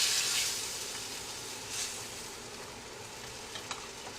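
Marsala wine poured into a hot pan to deglaze it, loud bubbling sizzle close by that settles into a steady hiss, with faint scraping and clinks of a utensil against the pan.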